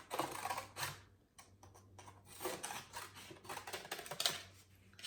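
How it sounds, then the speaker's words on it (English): Scissors cut a mouth shape out of a paper plate, making quiet, irregular crisp snips and rustles of paper at close range. "Okay, so I cut out a mouth for him."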